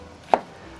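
A single crisp knife cut slices through an onion on a cutting board while beef hot pot is being prepared, one short, close chop in an otherwise quiet kitchen.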